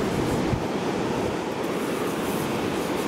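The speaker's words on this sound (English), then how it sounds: "the wind's so bad I might have to just talk over it" Strong wind blowing outdoors at a fossil-hunting site, a loud continuous buffeting roar close to the microphone, steady throughout with no voices.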